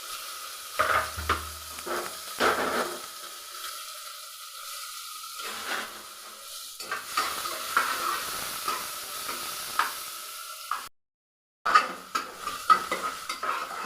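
Onions sizzle and sauté in a pan while a utensil stirs and scrapes, with soft frying crackle, occasional clinks and a brief silent gap.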